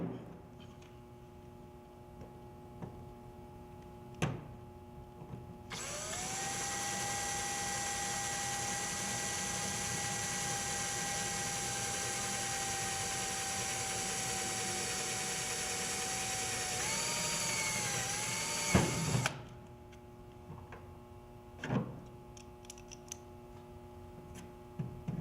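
A power drill whines steadily for about thirteen seconds while boring holes through an aluminum aircraft doubler and panels, with a dip in pitch near the end as it breaks through, bracketed by scattered clicks and tool handling.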